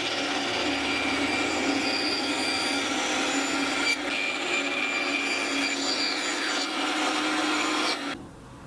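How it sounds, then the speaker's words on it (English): A bandsaw cuts a wood piece for a mason jar organizer, giving a loud, steady, rasping whine that runs for about eight seconds before abruptly dropping off. No one speaks. "Just for the sake of speed, I'm gonna do mine on the bandsaw."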